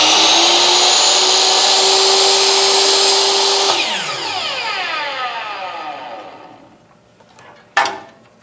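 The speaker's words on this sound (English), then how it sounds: "Let the blade cut it nice and clean." A saw blade cuts slowly through a wooden dowel with a loud, steady whine that drops off as the cut finishes and the blade spins down. A short clunk comes near the end.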